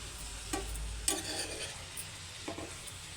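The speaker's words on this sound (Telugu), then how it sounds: "క్యాబేజీని వేసుకున్నాం కదా మంచిగా కలుపుకోవాలి" Freshly washed cabbage being stirred in a pan for a cabbage tomato curry: soft scraping and shuffling strokes over a low sizzle, with a few clinks of the utensil, close and fairly quiet.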